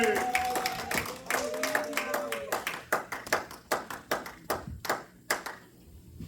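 A church congregation claps in rhythm, sharp hand claps repeating steadily, with voices singing or acclaiming over the first half before the claps carry on nearly alone.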